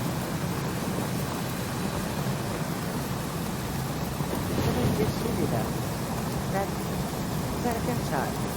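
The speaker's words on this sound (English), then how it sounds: "There was a thunder just went off." Thunder rumbles low and continuous, mixed with steady rain, with a swell of deeper rumble midway through, in an outdoor stormy setting.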